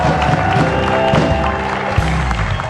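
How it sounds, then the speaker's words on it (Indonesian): Studio audience applause at an Indonesian evening TV talk show, a dense, steady wash of clapping and crowd noise lasting the whole moment with music-like tones underneath. "kita tepuk tangan dulu"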